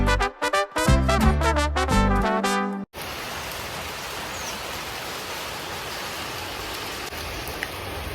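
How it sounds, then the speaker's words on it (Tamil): Heavy rain falls close by outside a house, a steady dense wash of noise that continues loud and unbroken after some brief music at the start. "நம்ம வீடு பக்கத்துல நல்ல மழை பெய்யுது இன்னைக்கு."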